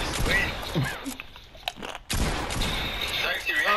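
Rapid bursts of video-game gunfire crackle loudly through much of the stretch, with a brief lull near the middle, while a player talks over the shooting.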